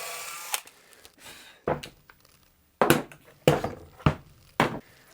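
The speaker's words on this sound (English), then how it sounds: "I want to drill outside of where I know my body blank is going to be" A 2mm drill bit bores through wood in short, separate bursts, each a sharp grinding whir lasting under a second, with quiet gaps between them at close range.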